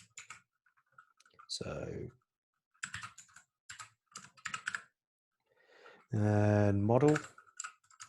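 Quick bursts of clicky typing on a computer keyboard, close and fairly quiet, coming in several short clusters with pauses between them, interrupted by someone speaking briefly.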